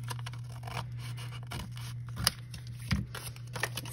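Scissors snip through the paper pages of a small matchbook-style booklet, with a few crisp cuts standing out over soft rustling and handling noise.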